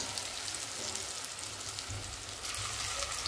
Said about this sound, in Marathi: थोडंसं फ्राय करून आपल्याला काढून घ्यायचे वड्या.